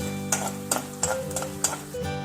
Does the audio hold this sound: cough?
no